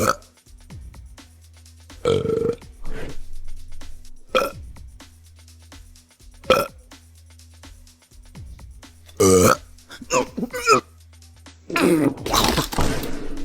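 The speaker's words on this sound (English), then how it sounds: "I'm jealous of you making music while burping." Loud, repeated burping in a comedic sketch, several separate belches spread across the clip, mixed with a broad musical tone and lively talking voices.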